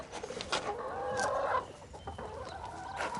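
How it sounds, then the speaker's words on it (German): Chickens clucking steadily in a farmyard, several birds overlapping in a close, busy chatter with no talk. "Ich will mal die Hühner sehen."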